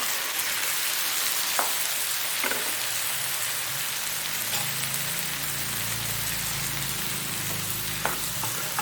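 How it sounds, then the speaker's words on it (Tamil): Chopped tomatoes sautéing in a pan with broken cashews, a dense, steady sizzle like rain on a surface, with occasional faint clicks of stirring and no voices. "நல்லா வதக்கலாம்."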